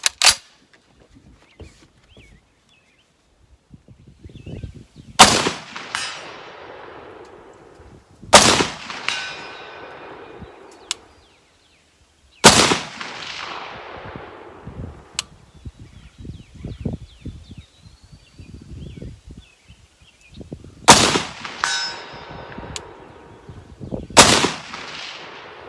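Several loud M1A rifle shots fired at steel targets 200 yards out, each sharp crack followed by a ringing metallic clang, spaced seconds apart with quiet gaps between them.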